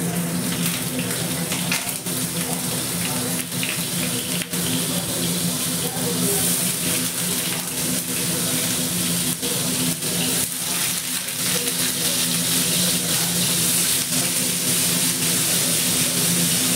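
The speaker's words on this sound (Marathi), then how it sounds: "पनीरला ना धुवून घेते मी" Water runs steadily while paneer is washed, a continuous rushing hiss with a low hum beneath, even in level from start to finish.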